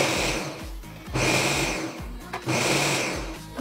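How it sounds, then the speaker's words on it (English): A kitchen blender loaded with salsa ingredients whirs in loud bursts, roughly three pulses with brief dips between them, close and steady in each burst. "the stuff is in the blender, ready to do the thing"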